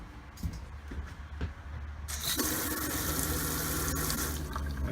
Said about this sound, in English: So this is our cold water.